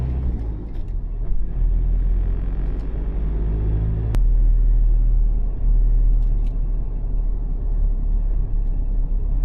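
A right-hand-drive car travels a road in Laos, heard from inside as a steady, loud low rumble of engine and tyres, with one sharp click midway and no speech.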